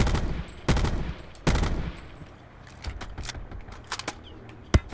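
Gunfire in Call of Duty Blackout: two loud, close bursts of rifle fire early on, then scattered fainter shots and short rattles at a distance, with sharp single cracks near the end.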